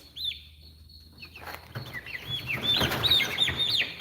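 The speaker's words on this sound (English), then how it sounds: "Yeah, we got turkeys, man." Young farm turkeys call nearby in a quick series of high chirps and clucks that thicken into an overlapping chorus toward the end.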